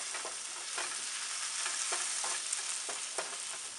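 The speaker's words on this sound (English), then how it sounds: "So we're just going to cook those spices in just a little bit for a couple of minutes. Just enough to kind of toast the spices." Coriander and cumin toast in a pan for curry, sizzling steadily while a spoon stirs through them in regular, rhythmic strokes, close and fairly loud.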